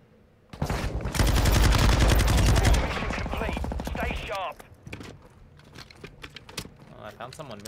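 A machine gun in Call of Duty Modern Warfare II fires a long, rapid, loud burst lasting about two seconds, followed by mechanical clatter and scattered shots, with a voice talking over the later part.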